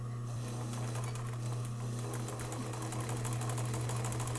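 A sewing machine stitches yarn onto fabric, a steady, rapid mechanical whirring and needle clatter, close and continuous throughout, with no talking.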